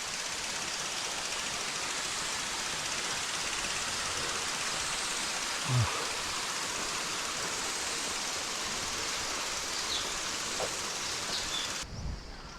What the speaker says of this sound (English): Waterfall over there.